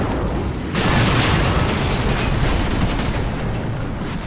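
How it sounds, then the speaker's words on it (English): T-62 tanks fire their cannons in the Cold War combat game Combat Mission Cold War, a sudden heavy boom that swells into a loud, sustained roar of blast and rumble with no talk. "My T-62s immediately return fire"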